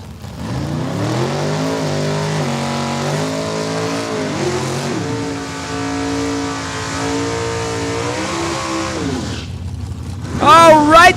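All-Mopar Super Pro final at Saskatchewan International Raceway: loud drag race car engines roar and rev steadily at close range for about ten seconds, then cut off, followed by a brief sharp high-pitched burst near the end.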